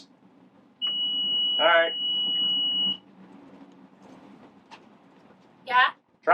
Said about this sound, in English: Turn it so it beeps.